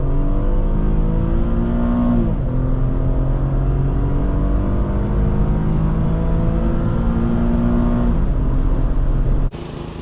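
A 2011 Infiniti FX35 engine revs through gears while cornering on a test drive, loud rising whines that drop at each shift, then a sudden cut near the end.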